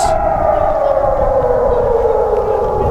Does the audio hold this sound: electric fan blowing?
no